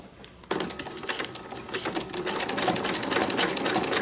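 After a quiet moment, a sewing machine starts up and runs continuously, stitching through a journal cover with a fast, dense clattering rhythm that grows slightly louder toward the end.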